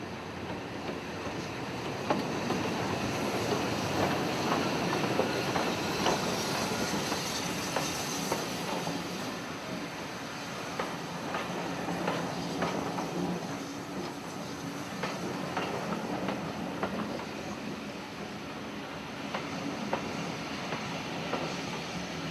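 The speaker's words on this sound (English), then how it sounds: "Emerging from the tunnel is a train from Pickering via Goathland to Gromont with 76079 in charge." A steam train hauled by locomotive 76079 emerges from a tunnel and rumbles along at a distance on the North Yorkshire Moors line, rhythmic clattering of wheels on rails, a steady rushing sound underneath and no voices.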